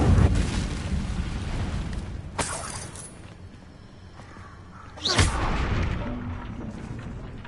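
An Incendio fire spell cast in the Hogwarts Legacy video game, heard as two sharp, loud fiery bursts that whoosh and fade over a continuous rumbling game backdrop.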